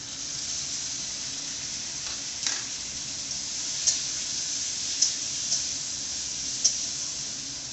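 Ginger, garlic and green chili fry in a pan with potatoes and onions, giving a steady close sizzle and hiss with a few soft clicks of stirring scattered through.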